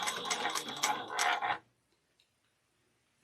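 A Kandu Bag GO sewing machine runs a chain stitch in a steady mechanical clatter of rapid ratcheting ticks for about a second and a half, close by, then stops into near silence.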